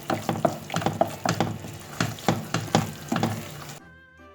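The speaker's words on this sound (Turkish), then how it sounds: "15 dakikadır karıştırıyorum" A spoon scrapes and stirs thick flour halva in a pan, a steady series of close, rhythmic scraping strokes ending abruptly in quiet.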